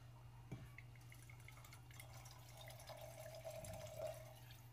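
Orange liqueur poured into a margarita, a soft trickling, dripping stream of liquid heard fairly faintly for a few seconds, with no talking.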